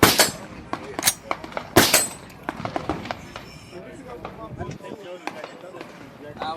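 A suppressed 10.5-inch AR-platform rifle firing 58 grain bullets outdoors lets off a few sharp, closely spaced cracks, followed by shuffling and people talking.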